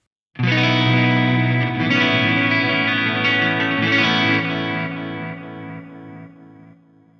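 A sustained, distorted electric guitar chord rings out through an Eventide H9 tape-style delay with flutter turned all the way up, its pitch warbling and smearing as it slowly fades.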